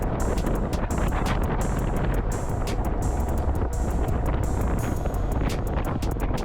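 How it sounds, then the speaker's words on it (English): Strong headwind roaring across the microphone while riding a budget e-bike, a steady, loud, broadband buffeting rush that fills the whole stretch without letup. "when we're going up against very heavy headwinds"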